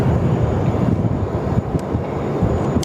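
Jetstar Airbus A320neo taxiing onto a gate bay at Sydney Airport, a steady low engine rumble with some wind buffeting, continuous and fairly close, no voices.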